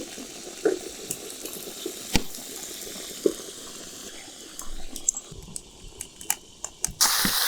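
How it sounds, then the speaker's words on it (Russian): Soft, steady sizzling of chicken frying in hot fat in a cauldron over an open fire, with occasional sharp clinks and pops scattered through, fairly quiet and close. "Около 30 минут придется жарить курицу в таком виде."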